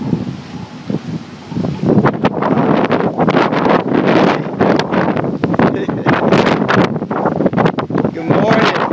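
Strong gusting wind from Tropical Storm Gonzalo in Antigua buffets the microphone in loud, rough bursts, with a voice briefly audible beneath the roar.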